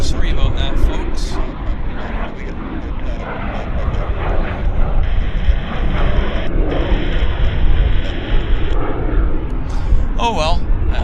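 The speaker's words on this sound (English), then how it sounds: "I missed this BizJet departure" A business jet departs Vancouver Airport with a broad, steady roar from a distance, its engine noise continuous under wind and background rumble.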